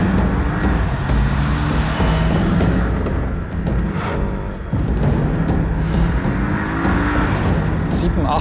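A Porsche 718 Cayman sports car drives along with a loud, continuous engine roar and road noise, the engine note steady with a brief dip midway, and a voice talking over it.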